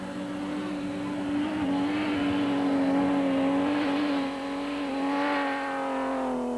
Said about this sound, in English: The riverbed was a place where you could really let her rip, and the boys did, van Tonda and Guelpa in the Ford Ranger.